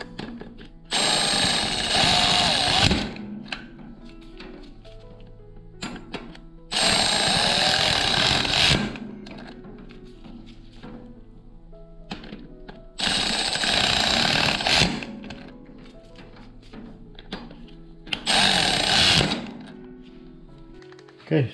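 Brake rotor bolts on a BMW R1200 GSA motorcycle are driven with a power tool in four loud, buzzing bursts of a couple of seconds each, separated by quieter gaps with light handling noise.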